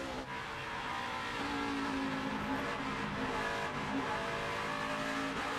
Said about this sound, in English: You can hear Trevor Bayne really working that throttle coming off the corner